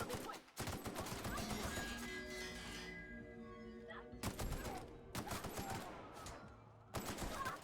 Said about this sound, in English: Okay, we're shooting him in the head.